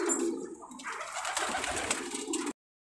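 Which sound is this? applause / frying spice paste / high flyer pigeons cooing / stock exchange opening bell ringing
high flyer pigeons cooing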